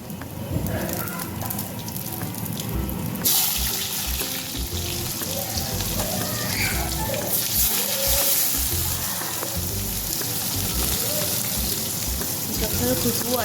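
Cumin seeds and jakhya dropped into hot oil for a Garhwali tadka, crackling and sizzling steadily at close range with a brighter burst partway through.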